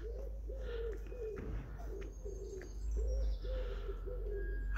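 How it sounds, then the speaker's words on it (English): Repeated soft cooing calls from pigeons or doves, with higher chirps and tweets scattered over a steady outdoor hum, heard from a bench in Ripon, Yorkshire. "Can hear them birds tweeting."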